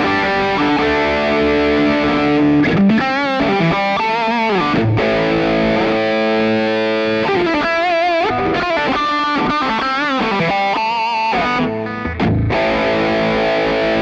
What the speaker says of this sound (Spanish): Por ejemplo, acá tengo ya un poquito más de distorsión.